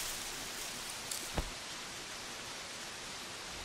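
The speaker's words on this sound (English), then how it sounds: "And it's raining." Soft, even hiss of steady rainfall in the video game The Walking Dead: 400 Days, faint and constant, with a couple of small taps near the start.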